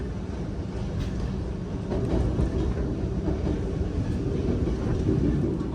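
Steady low rumble inside a premium-class carriage of the Wijaya Kusuma passenger train, service 118, while it is moving, an even broadband roar with faint rhythmic rattles and no talking.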